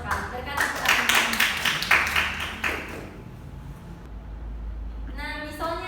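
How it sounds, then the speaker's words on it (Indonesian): A classroom of students clapping for a correct answer in a microteaching lesson, a short burst of claps that dies away within a few seconds before a voice speaks. "Berikan tepuk tangan."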